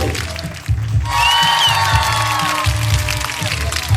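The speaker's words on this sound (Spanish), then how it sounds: "¡Fuerte el aplauso!" An audience at an evening panel applauds loudly, with crowd noise, cheering and bright tones rising over the clapping after a brief quiet dip, lasting several seconds.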